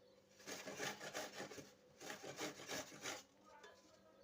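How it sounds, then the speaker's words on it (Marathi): Food being grated on a kitchen grater for a sweet fasting vadi makes soft, rhythmic rasping strokes, quiet and close, in two bursts separated by a short pause. "आता याला मी किसून घेते"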